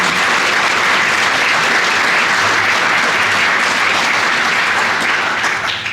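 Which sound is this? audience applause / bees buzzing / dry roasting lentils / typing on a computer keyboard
audience applause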